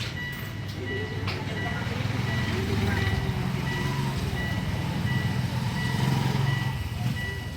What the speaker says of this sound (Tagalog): reverse alarm, sir, ito yung nag-a-alarm kapag umaatras.